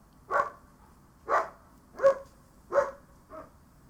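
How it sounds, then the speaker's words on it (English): A dog barking outside an open window, five evenly spaced barks at moderate distance, the last one softer, with quiet room tone between them and no talk. "I can enjoy a bit of dog barking"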